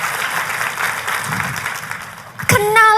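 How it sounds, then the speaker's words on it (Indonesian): Applause from a church congregation during a sermon: a steady, dense wash of clapping throughout, then a sudden loud burst near the end as the clapping swells with cheering. "Kau kalau mau tepuk tangan, come on"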